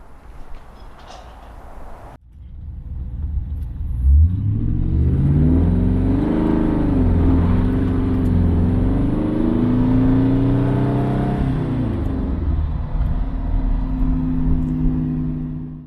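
A Marcos Mantula sports car engine starts with a jolt after a quiet idle-like hum, then revs up loudly, rising and falling in pitch before settling back.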